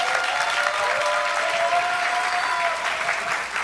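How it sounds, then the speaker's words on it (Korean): A church congregation at a Korean Christian musician contest gives a pastor loud, sustained welcoming applause, a thick, even roar of clapping from many people that barely dips from start to finish. "큰 환영의 박수로 여러분 모셨으면 좋겠습니다."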